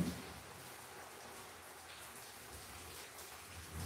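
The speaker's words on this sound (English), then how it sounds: "But once it pouring rain, so noisy" Steady pouring rain makes a dense, even hiss of drops hitting surfaces. It is moderately quiet and continuous, with no voices over it.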